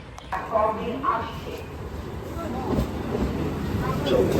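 A train pulls into a busy Kolkata station, its low rumbling and clattering steady and fairly close, with people talking over it amid crowd noise.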